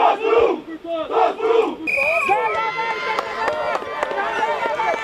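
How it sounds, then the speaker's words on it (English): A Brazilian men's rafting team, newly crowned world champions at the 2013 IRF World Championships in New Zealand, cheer and chant in loud rhythmic bursts. Then a higher whistle-like tone comes in, followed by sustained shouting. "they're cheering, they're chanting, they're doing their prayers"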